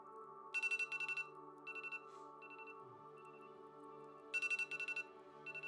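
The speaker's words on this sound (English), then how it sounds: "So that's not quite the alarm that you want to be woken up by." A phone alarm rings in a luxury cabin, sounding repeated clusters of bright electronic beeps in short rhythmic bursts over a steady background hum, faint and alone.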